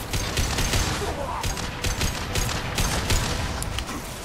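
Assault rifle fire in the video game Mass Effect 2, rapid bursts of shots repeating in quick rhythm across the clip at moderate level over game background noise.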